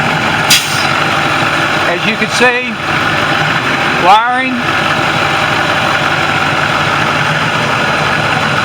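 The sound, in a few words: brand new Mack engine idling on a 2013 International shuttle bus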